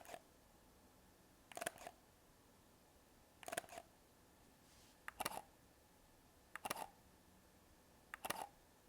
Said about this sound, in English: Let's just have a shutter sound comparison with the Leica M10R real quick here.